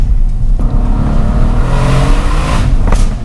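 A Mercedes C63S AMG 4.0-litre twin-turbo V8 revs up close, rising in pitch in a short, loud burst with no talking.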